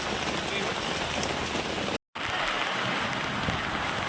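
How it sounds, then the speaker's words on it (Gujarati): Heavy rain pours steadily and loudly during a climb up Girnar hill, a dense continuous wash broken only by a brief dropout midway. "આટલો બધો વરસાદ છે."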